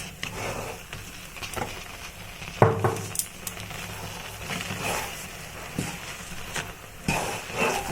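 Rice flour stirred into boiling water in a pot for Bengali cauliflower pithe: a spoon knocks and scrapes against the metal pot in irregular strokes over a low bubbling, close by, with no talking.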